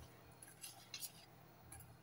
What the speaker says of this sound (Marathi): गुठळ्या न होऊन देता व्यवस्थित अगदी पिठाचं मिश्रण तयार करून घ्यायचं आहे.